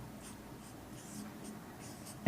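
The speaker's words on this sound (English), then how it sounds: "Let me write." Writing by hand on a board or paper during a probability lesson, with faint intermittent scratchy strokes in a quiet room and a brief louder knock at the end.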